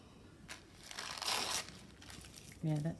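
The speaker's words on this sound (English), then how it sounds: "so let's cut it down a little bit." Paper ephemera being cut down to size for a handmade craft piece, close, soft crinkling and snipping sounds rising to a louder rustle in the middle, with a brief voice near the end.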